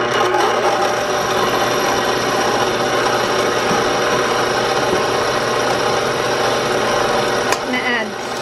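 Butter and white sugar are mixed together in a bowl, a continuous close scraping and rubbing that runs steadily throughout with a brief knock near the end, no talking heard.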